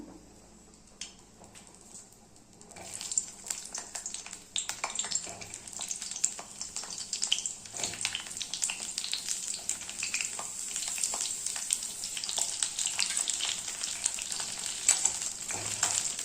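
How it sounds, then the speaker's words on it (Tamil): Eggplant pieces sauté in oil in a pan for an eggplant curry, with a close steady sizzle and frying crackle that starts quietly, then swells and continues under occasional stirring clicks. "எண்ணெயிலே நல்லா வதக்கிக்கலாம் ரெண்டு பக்கமும் இப்படி திருக்கி போட்டு போட்டு வதக்கிக்கலாம்"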